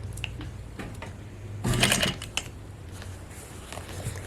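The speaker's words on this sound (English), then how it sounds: "And we're just sewing right where that seam would be." A sewing machine stitches along the waist seam of a pair of pants being taken in, a close mechanical whirring, rising to a louder burst of fast stitching in the middle, then quieter clicks.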